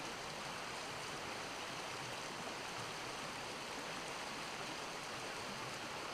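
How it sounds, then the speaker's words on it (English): Filtered water streams steadily from a squeezed filter bottle into a canteen on a hike near Liberty Lake, a continuous soft hiss of trickling flow with no voices. "the water will go down into the canteen"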